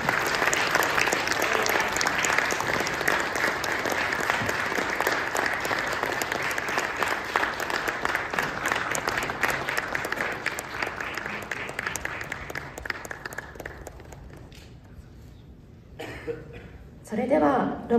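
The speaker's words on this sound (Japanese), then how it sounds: "皆様今一度大きな拍手でお願いいたします" A seminar audience gives the lecturers long, sustained applause that stays dense and even before thinning out, with a few coughs and voices near the end.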